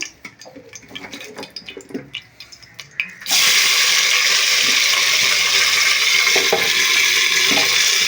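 Vegetables hit hot ghee in a pan for vegetable biryani: a few quiet clatters, then a sudden loud, steady sizzling hiss that fills the rest.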